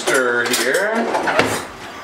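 A spoon stirs a pot of simmering water with agar, giving a few light metallic clinks and scrapes against the pot while a person speaks over it.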